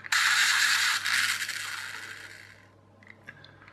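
A Ferrari Superamerica toy car with a pullback motor, released and running, gives a loud, close whirring buzz that lasts about two and a half seconds before fading, followed by a few faint clicks.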